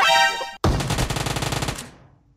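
Gunfire in the mobile shooter PUBG Mobile: a single sharp shot, then a brief gap and a rapid automatic burst of about a dozen loud cracks that trail off into a fading echo.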